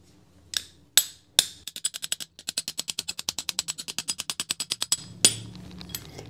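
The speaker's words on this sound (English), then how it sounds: "Then we're going to tap the bolt in." A hammer taps a bolt into a spring force bolt hanger with a few spaced metallic knocks, then a quick, even run of about two dozen sharp, ringing taps, ending in one last strike.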